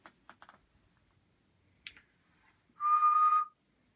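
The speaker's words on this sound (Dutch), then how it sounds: "De locomotief toetert even." A locomotive horn sounds once on the railway at Kelberg. It is a single clear, steady tone lasting under a second, heard after some soft clicks and taps in an otherwise quiet setting.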